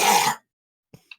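One person gives a short, harsh cough or throat clear close up, followed by silence and a couple of faint small clicks.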